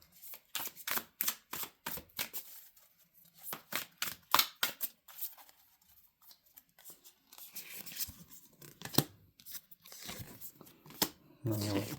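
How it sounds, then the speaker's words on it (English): A deck of tarot cards being shuffled by hand, rapid crisp riffling and slapping bursts in clusters with pauses, close up, with a voice speaking at moments. "Now let's give these a shuffle. Shuffle, shuffle, shuffle."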